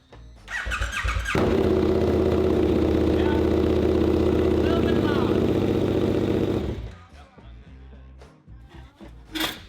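A loud, raw KTM 1290 Super Adventure R motorcycle engine runs with no exhaust fitted for several seconds with a rough, unmuffled roar, then cuts off, leaving quiet clicks and faint background noise.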